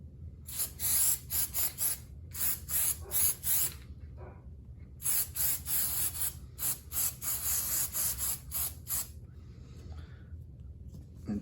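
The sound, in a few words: spraying contact cement glue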